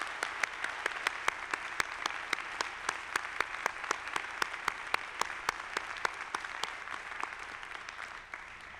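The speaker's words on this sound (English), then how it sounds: "I'd like to ask for a round of applause for the entire Carleton community" An auditorium audience at a college opening convocation applauds the Carleton community, a dense, steady wash of clapping with a few sharp, regularly spaced hand claps standing out near the mic before it begins to thin.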